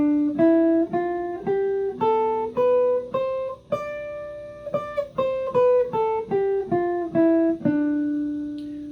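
A sustained synth-like guitar tone steps up a scale note by note from D to the higher D, then descends back down, each note cleanly separated and fairly loud with no talking.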